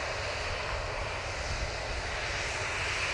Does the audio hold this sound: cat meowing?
no